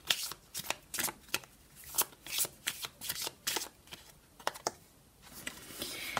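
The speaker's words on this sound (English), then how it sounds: "I'm just going to go ahead and shuffle again." A deck of Chinese oracle cards being shuffled by hand up close, a run of quick riffling bursts and soft slaps in an uneven rhythm over about six seconds, with no talking.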